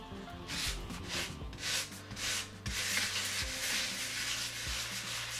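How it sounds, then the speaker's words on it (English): A sanding block worked back and forth over a foam model hill, making repeated rough rubbing strokes in a steady rhythm, close up with no speech. "We're going to just sand this down as our next step"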